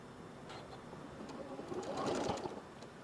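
A sewing machine stitches quilt fabric in a quiet, continuous whir with a rapid needle rhythm that grows a little louder midway, and a voice is faintly present around it.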